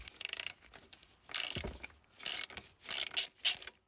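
A ratchet with a 10mm socket undoes a bolt on a van in short close bursts of rapid clicking, with pauses between strokes.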